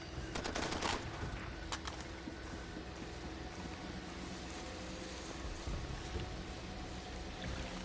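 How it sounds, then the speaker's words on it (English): Gunfire in Far Cry 2, a dense burst of rapid shots early on followed by scattered sporadic reports over a constant rumbling ambient background, moderately distant. "Still someone's shooting at me."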